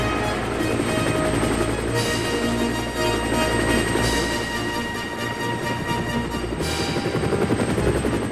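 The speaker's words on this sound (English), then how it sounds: "There, ready for action, was Harold the helicopter." A helicopter flies with a steady, continuous rotor thudding and turbine whine that holds at an even loudness throughout, with no voices.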